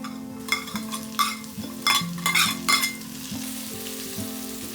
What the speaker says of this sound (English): start adding chopped garlic and ginger one by one and give it a good mix